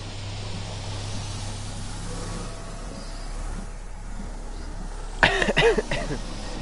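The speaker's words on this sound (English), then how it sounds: "even though it's just a cough." A single short cough in a quiet, faint ambient space in Everybody's Gone to the Rapture, a brief burst near the end after several seconds of low background hush.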